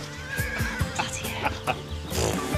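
Several horses neigh and whinny close by at a bridal entrance, loud repeated calls rising and falling over a couple of seconds, with a faint clip-clop of hooves underneath.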